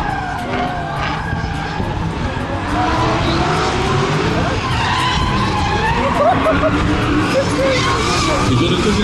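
A BMW M5 drifting at a drift show in Alsace, France, its tires squealing in long, wavering shrieks over a loud, steady engine roar. The sound stays close and continuous, with faint voices mixed in.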